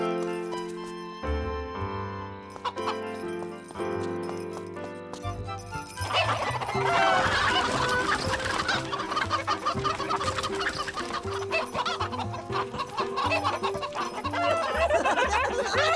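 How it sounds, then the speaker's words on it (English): Cartoon chickens cluck and squawk in a barnyard, first over quiet tinkling music, then louder and busier from about six seconds on as the flock is stirred up, with a dense continuous clatter of calls. "go and stir up those chickens"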